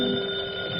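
A telephone bell rings steadily and fairly loudly in an old Christmas Carol radio play, a continuous ringing tone sustained through the moment with no voices over it.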